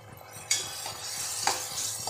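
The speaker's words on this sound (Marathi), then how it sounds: "हळद हिंग टाकून पुन्हा एकदा ढवळलं जाईल" Mung bean vegetable being stirred in a pan with turmeric and asafoetida, soft scraping with two sharp utensil clinks over a light sizzle, close by.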